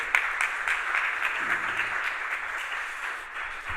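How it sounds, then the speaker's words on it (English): Warm audience applause at a sports industry conference greets a speaker being introduced, steady and fairly loud throughout, with a brief murmur of voices underneath. "Warm round of applause."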